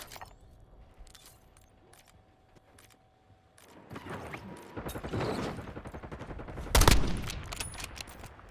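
Gunfire in a Call of Duty game: quiet clicks and mechanisms at first, then a loud burst of rapid automatic fire and scattered shots, peaking in a sharp blast near the end.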